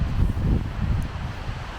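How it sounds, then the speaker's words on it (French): Strong wind gusts buffet the microphone outdoors in the Ardèche hills, a continuous loud low roar with rushing surges and no speech. "Il y a un vent de fou."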